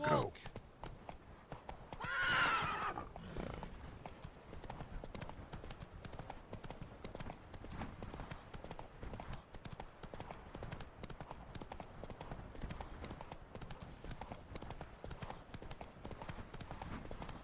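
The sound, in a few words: horse Roach walking, from video game Witcher 3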